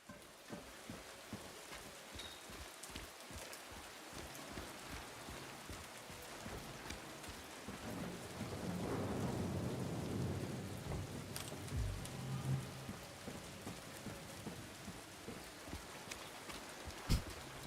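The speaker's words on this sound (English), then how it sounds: "Raining again." Soft, steady rain patters in the background of the video game Silent Hill 2 (2024 remake) with a low rumble swelling midway, faint and distant throughout.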